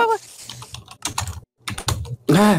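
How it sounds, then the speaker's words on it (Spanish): Computer keyboard typing during a Spanish-language spider and treasure-chest gaming session, quick clicky bursts of keystrokes broken by short pauses, close and fairly loud, ending in a louder tonal squeal. "Más es lo que se escucha el teclado"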